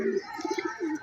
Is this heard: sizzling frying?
no